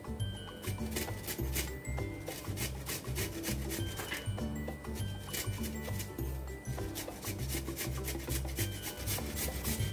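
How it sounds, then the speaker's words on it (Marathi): Fresh turmeric and ginger are rasped across a grater in quick, steady back-and-forth strokes, a continuous close scratching rhythm with no talk. "मी ही सगळी हळद आणि हे आलं हे दोन्ही अशा प्रकारे इथे किसून घेणार आहे"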